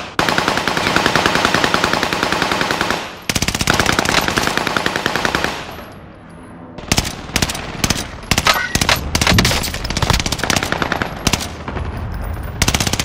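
SMG gunfire in Call of Duty: Modern Warfare: a loud, sustained automatic burst runs for about three seconds, then breaks off and returns after a short lull as a string of choppy, rapid bursts.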